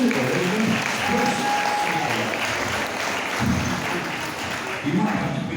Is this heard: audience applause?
yes